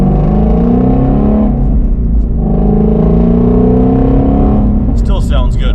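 A Shelby Mustang engine idling and blipping gently while it warms up, a loud, close, steady rumble with rising and falling revs, and a brief voice near the end.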